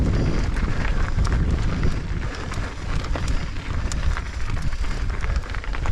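Strong wind buffeting a microphone at a mountain summit on a Las Vegas mountain bike trail, a steady loud roar with gusty rumble and no speech.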